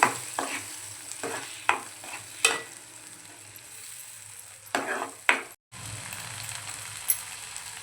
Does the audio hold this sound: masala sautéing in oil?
yes